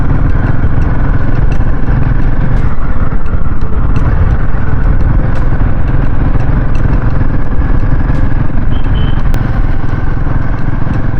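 A Royal Enfield Himalayan motorcycle ridden on a rough off-road mountain track, its engine a loud, continuous close-up drone mixed with wind rumble and occasional clatter, no talking.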